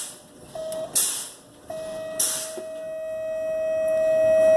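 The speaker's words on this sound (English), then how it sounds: "my light and buzzer came on at 70 psi" A truck's low air warning buzzer sounds as a steady electronic tone inside the cab during a brake pressure test, starting briefly, then holding on continuously, with sharp hisses of air released from the brakes.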